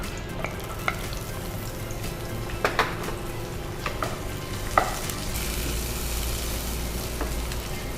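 Onion sizzles steadily in a hot pan with cumin, a continuous soft frying hiss broken by a few sharp clicks and scrapes of stirring, with no talking.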